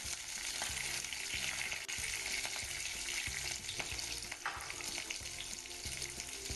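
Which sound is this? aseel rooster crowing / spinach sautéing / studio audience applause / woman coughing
spinach sautéing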